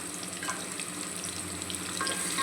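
Chopped onions with salt fry in a pan, giving a continuous close sizzle with light stirring scrapes on top, steady and without voices.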